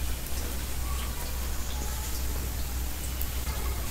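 Bread slices dipped for egg toast fry in a pan, giving a steady, even sizzle with faint crackles throughout and no talking.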